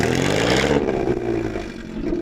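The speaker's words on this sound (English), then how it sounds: "Mike, rev up your blower" A vintage Bentley Blower's engine revs hard up close, a loud, rough rumble that surges at first and then settles into a steady, throbbing idle.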